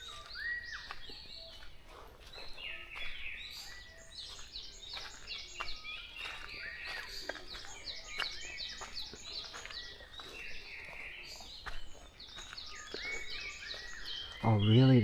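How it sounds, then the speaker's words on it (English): A dense morning chorus of birds fills the air, many chirps and warbling calls layered continuously at moderate distance, ending with a brief low bump close to the microphone. "this morning those birds are singing so wonderfully"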